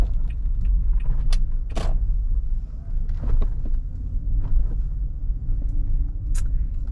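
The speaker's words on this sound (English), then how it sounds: "Turning into the parking lot, controlling the wheel." Interior rumble of a car turning slowly into a parking lot, a steady low engine and road drone with faint creaks and clicks from the cabin.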